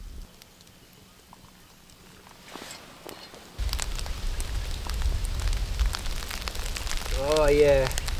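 Rain falls before dawn on a winter bush shelter and campfire in the Australian bush. It starts as a faint patter, then becomes a steady, close hiss, with a brief voice near the end.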